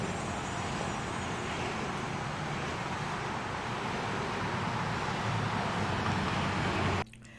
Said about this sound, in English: It's strange because I can hear traffic.